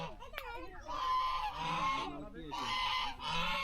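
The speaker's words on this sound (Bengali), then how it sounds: "এখানে রাজহাঁস আছে" Geese honk at an eco park in Mukutmanipur, with loud, nasal calls in overlapping bursts and short pauses between them, fairly close against faint outdoor background.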